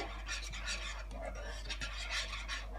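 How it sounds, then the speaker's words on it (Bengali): An egg barfi mixture is stirred continuously in a pan over low heat, a steady rasping scrape of the spoon across the pan surface with rhythmic strokes, fairly faint and close. "ধৈর্য নিয়ে এটাকে এভাবে নাড়তে হবে একদম এরকম কমে রেখে নাড়তে হবে"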